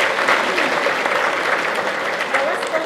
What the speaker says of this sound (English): So I want to applaud you,